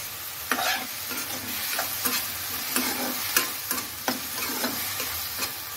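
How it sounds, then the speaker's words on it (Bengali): Prawns fry in a pan with a steady soft sizzle, broken by regular scraping and tapping strokes of a stirring spatula, close and fairly quiet with no talking. "চিংড়ি মাছটাও লাল করে ভেজে রেখে দেব।"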